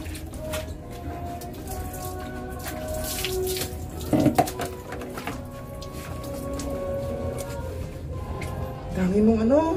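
Tap water running while a puppy is bathed, a steady soft splashing stream beneath a person talking, with a brief clatter midway and some faint higher squeaks near the end.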